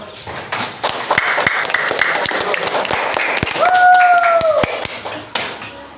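Students in a classroom clap during a computational thinking lesson, a loud, scattered burst of hand claps with sharp individual slaps, a high whistling tone rising briefly midway.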